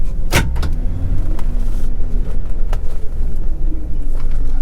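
A 2006 Mercury Grand Marquis LS being driven, heard from close by: a steady low engine rumble, with a sharp knock near the start.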